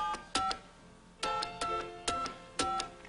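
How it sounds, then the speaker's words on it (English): Telephone dialing tones on a call, a series of short, loud electronic beeps in irregular clusters with quiet gaps between them and no voices. "Man, listen to that dial tone."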